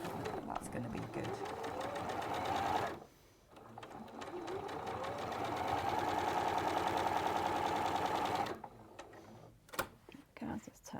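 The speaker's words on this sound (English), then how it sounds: "I'm going to sew directly on both of those lines" A sewing machine stitches down straight lines in long, steady whirring runs with a brief pause partway through, then quick stop-start bursts at the end; soft voices can be heard faintly in between.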